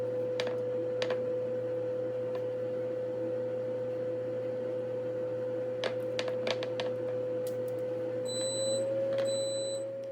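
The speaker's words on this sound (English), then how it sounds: "That's the sound of the air fryer indicating to me that it has reached 360" An air fryer gives two pairs of short electronic beeps near the end on reaching 360 degrees, over a steady mechanical hum, with a few faint clicks earlier.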